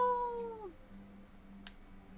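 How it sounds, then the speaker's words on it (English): A cat meows in the video game Dragon Quest XI S, one short descending meow followed by a faint brief sound, quiet against a low game background hum. "That's a cat, it'll be fine."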